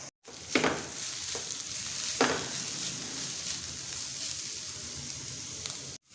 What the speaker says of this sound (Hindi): अब इसमें चिकन डाल देंगे, जिसको नमक काली मिर्च डालकर मैंने उबाल लिया था,